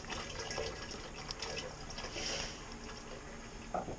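Merlot wine kit juice draining from a cut corner of the bag, a soft steady gushing pour of liquid heard close and continuous.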